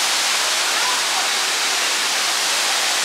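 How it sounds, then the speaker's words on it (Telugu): Water pours down from above at a large waterfall fountain inside a fenced bird park aviary in Singapore, making a loud, dense, continuous rushing hiss close by with no speech. "వాటర్ ఫౌంటైన్ పెద్దది కొంచెం, అంటే పై నుంచి వాటర్ పడుతుంది"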